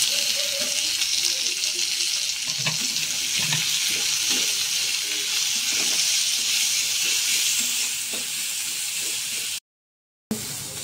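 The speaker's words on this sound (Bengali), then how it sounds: "এবার দেব পেঁয়াজ।" Onions sizzle steadily in a hot frying pan, a continuous loud hiss with faint clinks. The sound cuts out briefly near the end, then resumes.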